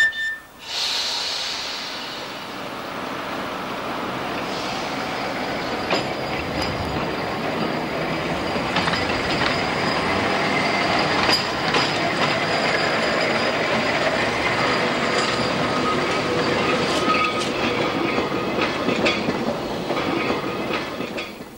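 An Isle of Man tramway car with 1890s rolling stock runs along the Douglas to Ramsey line, a steady rumbling roll with rattling and scattered clicks and squeals from the wheels, close and continuous throughout.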